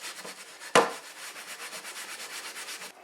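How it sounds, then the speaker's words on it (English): A cast iron skillet being scrubbed with an SOS steel wool pad, rapid rhythmic close rasping strokes after one sharp knock, alone without speech. "Scrub away."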